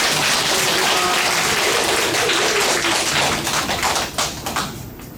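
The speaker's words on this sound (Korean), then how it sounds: "큰 박수로 모시겠습니다" Audience applause at an agricultural cooperative training session on napa cabbage seedlings, a dense burst of clapping that tapers off into scattered claps near the end.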